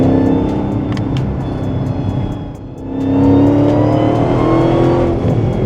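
A Dodge Demon 170 at half throttle roars loudly up through the revs, dips briefly at a gear change, then climbs again with a whining tone, heard from inside the car.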